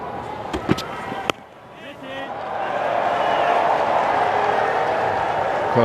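Cricket crowd in the West Indies cheering and applauding a batsman's fifty, a broad swelling roar that builds and holds steady after a few sharp knocks at the start, with talk running over it.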